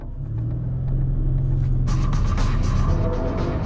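An Audi er7 electric car drives along backcountry roads, a low rolling rumble that builds into a louder, rougher surge of road and wind noise partway through.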